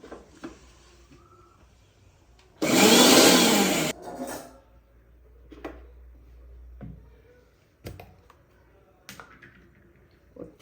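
Mixer grinder grinding coconut and cumin in a home kitchen, one loud whirring burst lasting just over a second, followed by quieter clatter and knocks.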